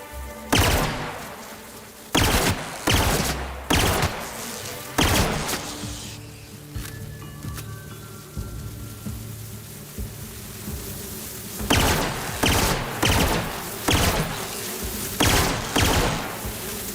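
Gunfire in The Outer Worlds aimed at a swarm of bugs, sharp loud shots in irregular clusters with a quieter middle stretch of buzzing and ambient tones before another rapid burst.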